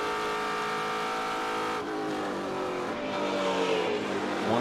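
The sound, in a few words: race car engine revving at VIR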